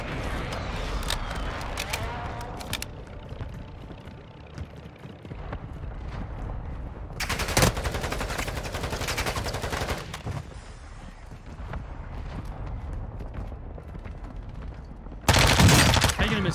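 Bursts of rapid gunfire from the Vaznev-9K in Warzone 2, dense crackling volleys and single shots over continuous game ambience, with a loud burst near the end.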